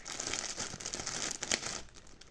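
Hands unbox a gift package, producing continuous close crinkling and rustling of wrapping material with a few sharper crackles and a soft tearing quality, and no speech.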